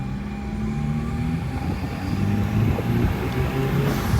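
A vehicle engine idles with a steady low rumble, a slight rise in revving partway through, close by and continuous with no talking.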